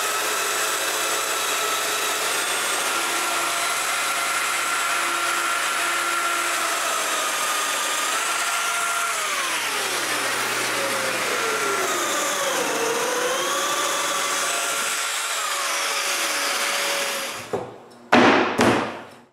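Power tool cutting mortises in wood for a cabinet, a loud steady whining drone with gliding pitch changes as the cut loads and eases, then spinning down near the end followed by a couple of brief knocks.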